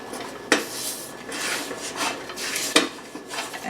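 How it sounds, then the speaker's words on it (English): Butter is spread across a pan warming on low heat, heard as soft rubbing and scraping of a utensil against the metal, with two sharper taps. "I'm going to use butter. Just get it all over the pan so it won't stick"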